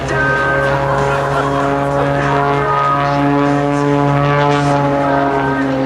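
An aerobatic propeller airplane at an air show drones steadily with a strong harmonic engine whine, the pitch shifting slightly as it tumbles and maneuvers, loud and continuous.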